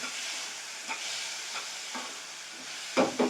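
Fried onions and tomato pieces stirred in a pan, a soft steady sizzle with a few quiet scraping strokes and a louder clatter near the end.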